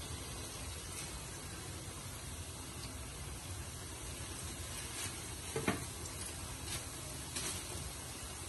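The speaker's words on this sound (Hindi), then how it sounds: "अब मैं समोसे और रोल फ्राई करने लगी हूँ।" Samosas and vegetable rolls fry in oil over a low flame, giving a steady, soft broadband sizzle throughout, with a few brief louder crackles and pops near the end.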